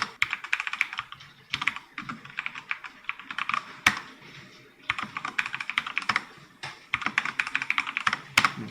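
Fingers tap out Linux server commands on a computer keyboard, close and crisp, in quick bursts of keystrokes separated by short pauses and a few sharper key strikes.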